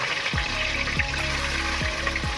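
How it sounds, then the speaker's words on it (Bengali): A very large fish, around six kilograms, frying in fully heated oil in an outdoor parking-lot cooking setup: a loud, continuous crackling sizzle with a few brief splashes and spits as pieces shift, no talking. "আমাদের তেল পুরো গরম হয়ে গেছে, তো এখন আমরা মাছটা ভেজে নেবো"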